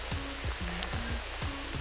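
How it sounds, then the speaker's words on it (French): Rain falls on a mountain trail, a steady hiss and patter under low rhythmic thumps of footsteps or gear on the path, with no one speaking. "Et voilà, un peu dans la pluie."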